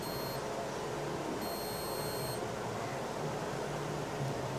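Digital multimeter continuity beep while probing a transformer's windings, a steady electronic tone held over a constant background hum, with one short break and a slight change in pitch.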